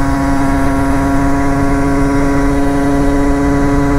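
A Rieju MRT 50 motorcycle with a Tecnigas Enox exhaust is ridden on dry autumn roads, its small engine droning loud and close at a steady pitch with no talking.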